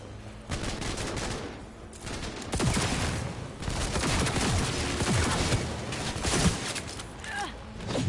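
Gunfire erupts in the video game Cyberpunk 2077, a loud, continuous fusillade of rapid shots and bursts layered over one another, sustained throughout with heavy impacts and no pause.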